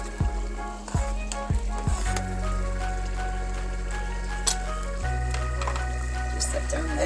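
Hamburger meat sizzles steadily in its own liquid in a pan for goulash, with a few sharp clinks of a utensil early on, while a voice talks over the cooking.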